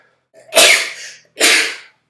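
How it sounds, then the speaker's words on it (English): A single sharp sneeze, a quick intake then an explosive burst, followed moments later by a second, slightly shorter sneeze, both loud and close. "I'm gonna sneeze."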